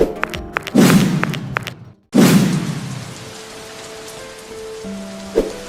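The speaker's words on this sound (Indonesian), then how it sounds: "Hujannya deras banget." Heavy rain pours down in a steady broadband wash, broken by two loud thudding bursts and a brief dropout, with faint tonal hum underneath and no talking.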